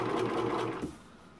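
A sewing machine runs a reverse stitch on a homemade heating pad, a steady fast whirring buzz for under a second that then cuts out.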